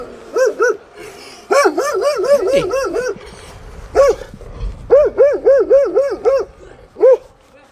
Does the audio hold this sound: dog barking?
yes